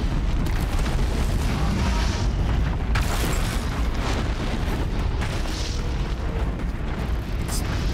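Fire attacks explode in Horizon Zero Dawn on Ultra Hard difficulty, a dense, continuous rumble of booms and bursts that keeps a loud, steady roar for the whole stretch without any talk.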